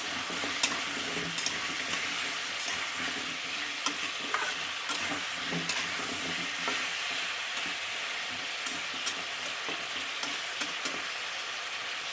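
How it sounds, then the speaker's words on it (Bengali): New potatoes fry with salt in a pan, a continuous close sizzle with frequent crackles and stirring clicks throughout, no voices. "একটু লবণ দিয়ে দিচ্ছি, ভালো করে আলুটাকে ভেজে নেব।"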